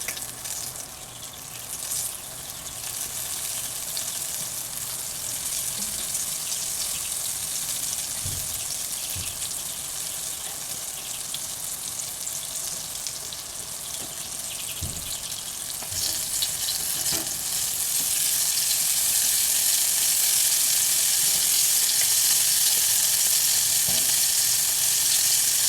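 Frozen battered okra fries in hot oil with a dense, continuous sizzle and crackle that swells louder toward the end, broken by a few soft clicks of tongs turning the pieces.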